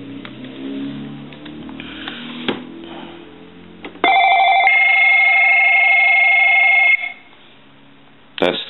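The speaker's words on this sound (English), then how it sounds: "That's the cordless phone ringing too." An AT&T Speakerphone 5500 cordless telephone rings with a loud, steady electronic tone lasting about three seconds, after earlier background noise and brief knocks.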